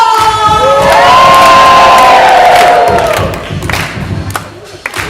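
At a high school homecoming talent show, a loud crowd cheers with whoops and shouts, thinning out toward the end as scattered voices and claps remain.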